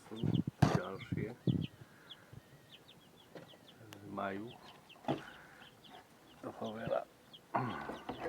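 Hens and chicks cluck in a farmyard coop, with repeated close clucks, soft cheeps and some wing flapping, mixed with a person speaking.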